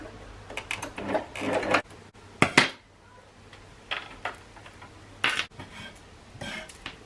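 A sewing machine stitches the seams of a simple swing wedding dress in short, separate bursts, with brief pauses between runs, heard close in a quiet room.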